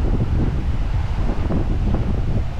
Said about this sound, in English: Look at that wind. How's that for some wind?